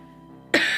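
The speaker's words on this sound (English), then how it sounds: "The cough was all part of that act." A single sharp cough bursts out after a stretch of near-quiet room tone, close and loud, with a rough, throaty edge that lingers briefly.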